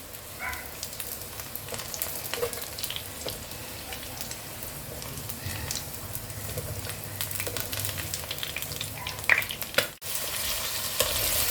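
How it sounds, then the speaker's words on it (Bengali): Potatoes fry in hot oil in a pan for a Bengali aloo potol curry, a steady close sizzle and crackle with occasional stirring clatter throughout. "আলুগুলো আমি ভালো করে ভাজবো, ভেজে তুলে রাখবো"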